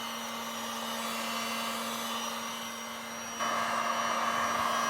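A steady, loud blowing whir of a heat gun running continuously, growing a bit louder and brighter partway through, with no talking.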